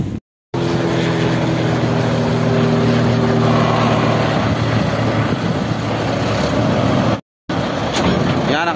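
A tractor truck idles and runs steadily while hitched to a trailer with a faulty maxi brake and leaking air, its engine drone loud and close throughout, broken by two brief dropouts.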